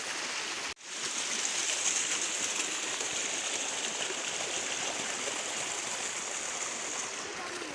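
A stream flows through a rubber plantation with a steady, broadband rushing of water, close and continuous after a brief dip near the start, with no talk over it.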